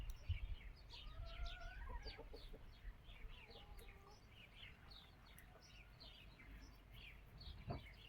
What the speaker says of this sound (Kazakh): Тауықтар түсіп жатыр. Тамақ жеп жатыр.